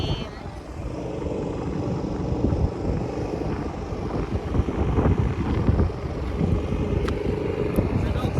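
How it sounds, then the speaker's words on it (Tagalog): Strong wind at a Dubai seaside fishing spot buffets the microphone with a steady, rough roar that swells and gusts throughout, with faint voices underneath. "Lakas ng hangin."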